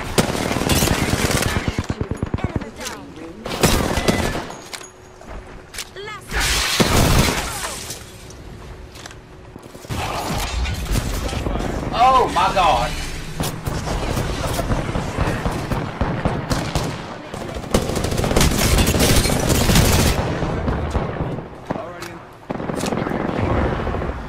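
Rapid automatic gunfire from the video game Apex Legends crackles in dense, repeated bursts with brief gaps, loud and close throughout, layered with other game effects.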